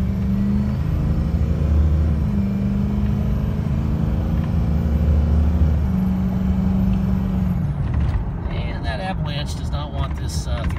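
A 3/4 ton truck with 170,000 miles gives a steady, loud low engine and road rumble while driving, with a voice talking over it toward the end.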